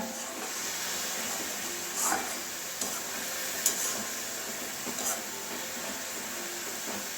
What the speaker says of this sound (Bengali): তো ঠিক আছে আমি তখন ভেজে নিচ্ছি দেখুন বন্ধুরা কতটা জল বেরোচ্ছে